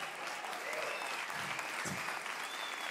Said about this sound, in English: Let's give him a big God bless you clap